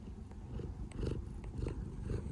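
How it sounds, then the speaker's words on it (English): Small cat purring close by, a soft low rumble with gentle rhythmic swells from each breath, steady and quiet with no talking. "So if you can hear this little one, she's purring."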